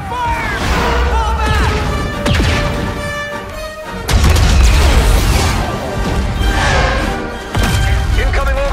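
Orbital strike explosions in the Star Wars Battlefront video game, loud heavy booms and crashing blasts rolling one after another with a big new impact midway and another near the end, over dense battle noise.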